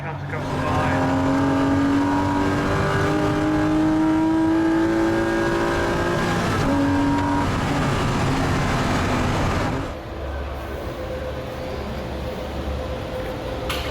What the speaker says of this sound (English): And over the line goes Ben to take the pole on the second race.